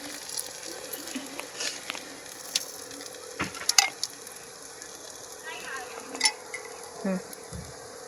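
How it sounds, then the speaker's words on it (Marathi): A fenugreek leaf dish fries in oil in a pan after being flipped, giving a steady low sizzle with a few brief clinks and taps. A faint voice speaks once near the end. "आता पलटी मारून घेणार आहोत आणि तेल खालच्या बाजूने तेल टाकून घेणार आहोत"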